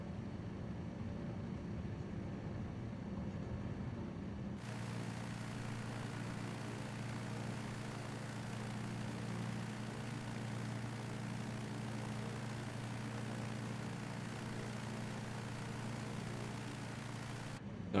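Small airplane engine at takeoff power, a steady loud drone that steps up sharply a few seconds in and holds evenly throughout, heard from inside the cabin on a snowy day.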